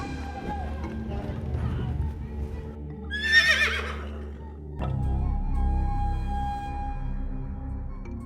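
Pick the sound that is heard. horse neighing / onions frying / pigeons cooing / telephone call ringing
horse neighing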